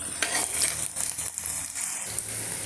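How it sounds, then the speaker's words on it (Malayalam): Ginger, green chili, garlic and shallots sautéing in a pan for a chickpea curry, a continuous close crackling sizzle with faint utensil taps and no voices. "ആദ്യമായിട്ട് ഇഞ്ചി പച്ചമുളക് വെളുത്തുള്ളി ചെറിയ ഉള്ളി ഇവ നമുക്ക് ഇതിലിട്ട് വരട്ടിയെടുക്കാം"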